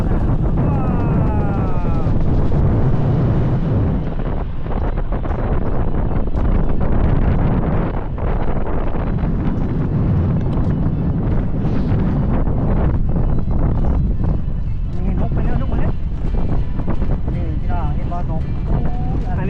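Strong wind blows across open rice fields in Suphan Buri, Thailand, roaring and buffeting loudly and continuously at close range.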